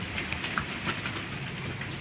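Rain falls steadily outside amid strong wind, a dense, even patter with scattered sharper drops, close and continuous with no voices.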